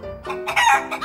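A chicken clucking and crowing close by, a short burst of loud, rising squawks in quick succession, heard alone with no speech.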